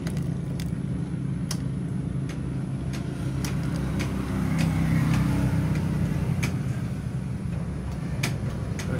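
A Yamaha Mio i 125 scooter engine running after repair for misfiring, a steady low rumble that holds at an even level throughout, heard close with a few sharp ticks over it.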